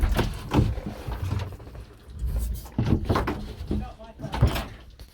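A 1960s Ford Cortina Mk1 front door being shut during a water test, producing several dull thumps and clunks, mixed with voices talking nearby.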